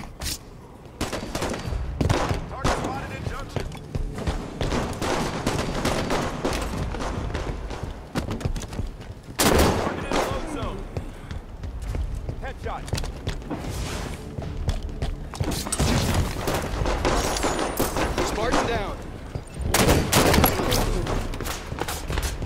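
Rapid bursts of gunfire from a Halo 5: Guardians match on Xbox One X, with dense fusillades and thuds running throughout and swelling in louder clusters, over a constant game soundtrack.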